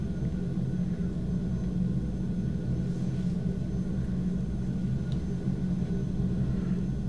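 An F-16D jet in a flight simulator game cruises over Atlanta, its engine a steady, loud, low rumble that stays constant throughout, with no voices.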